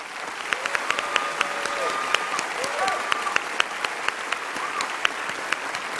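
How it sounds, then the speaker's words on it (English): A pageant audience at the Miss Oklahoma 2009 event applauds a contestant's family, a steady wash of many clapping hands with sharper individual claps popping through, sustained and fairly loud. "If Kelsey's family would please stand, this applause is for you"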